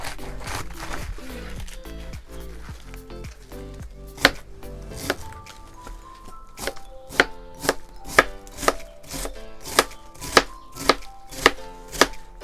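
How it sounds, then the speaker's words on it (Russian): A knife slicing cabbage into thin strips on a cutting board, rapid dense chops at first, then slower evenly spaced sharp thuds, close and loud with no talk. "И теперь обычную капусту нарезаем на тоненькие полоски"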